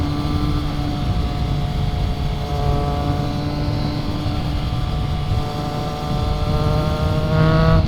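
Triumph Trident 660 motorcycle exhaust droning steadily while riding at night, with rising and falling engine harmonics as the bike pulls through gears, close and loud throughout.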